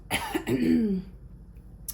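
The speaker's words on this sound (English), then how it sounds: "I'm so sorry I have to cough" A single harsh cough followed by a brief throat-clearing rasp, close and clear, then quiet.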